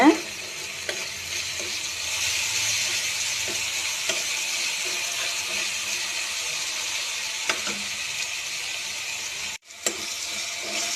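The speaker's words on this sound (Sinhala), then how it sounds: "දැන් නම් දුඹුරු පාට වෙනකම් බැදිලා තියෙන්නේ" Chopped chillies fry in an oil-filled pan while making upma, giving a steady, fairly loud sizzle that runs unbroken with a few faint stirring clicks and a brief dip near the end.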